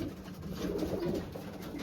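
Racing pigeons coo in a loft, giving a continuous low, throaty burble that sits close to the listener and stays steady throughout.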